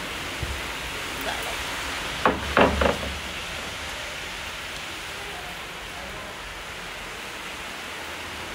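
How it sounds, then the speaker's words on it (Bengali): Steady rain falls with a constant, even hiss, broken by a few brief knocks a little past two seconds, with no clear voices over it. "বৃষ্টি পড়ছে।"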